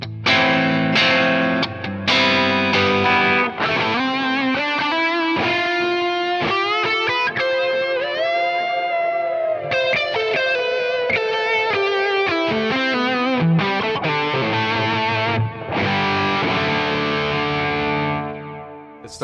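An electric guitar plays a continuous melodic passage through a Keeley HALO Andy Timmons Dual Echo pedal, drenched in layered echo repeats, notes smearing into a lush, sustained wash with no talking.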